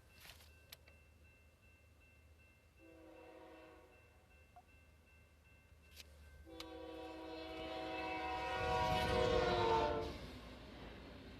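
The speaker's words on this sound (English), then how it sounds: "Damn train." A train in SimCity BuildIt sounds a horn that swells into a louder, rumbling pass before fading. It is preceded by a few sharp game clicks and a brief earlier horn note.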